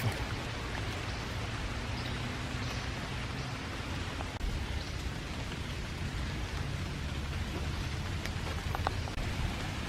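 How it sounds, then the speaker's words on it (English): Steady rushing water and rain noise fill the scene without pause, a broad continuous wash of rain runoff streaming over the ground on a park hiking trail. "There's going to be a lot of rain runoff."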